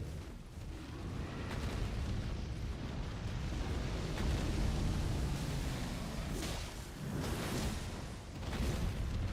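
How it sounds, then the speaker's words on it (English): In Elden Ring, a giant dragon attacks with rumbling, roaring bursts of fire that swell and fade in a dense, low, continuous barrage, broken by a few brief heavier surges. It sounds moderately quiet, with no voices. "They've got a giant dragon and they're firing at me."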